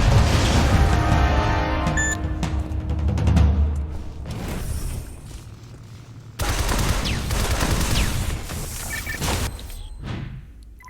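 Grenades burst against a boss in the video game Shadow Complex: Remastered, a run of heavy booms and rattling blasts layered over a low rumbling score, with a loud cluster at the start and another barrage after a short lull.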